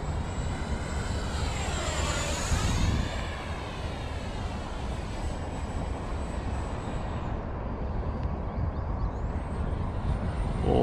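A FMS F-16 Fighting Falcon RC jet with a 64mm electric ducted fan makes a full-speed pass. Its steady high-pitched whine sweeps upward and then down in a clear Doppler shift as it flies by, and a constant roar continues after the pass.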